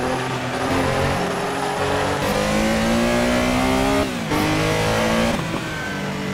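A race car driven hard around the Nordschleife in the Assetto Corsa racing game, the engine droning loud and steady with rising revs and quick dips at gear changes, plus a brief tire squeal.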